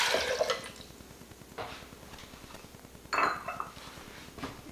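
Water and lime juice poured into a container for a vegan cilantro lime dressing, giving soft splashing and dripping with a few light clinks of glass or utensils, close by and fairly quiet, no talk.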